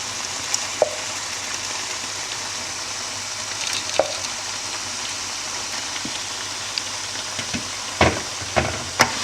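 Meat sizzles and fries in a pot of egusi soup with bitter leaf, a soft steady crackle punctuated by sharper pops and occasional stirring clinks.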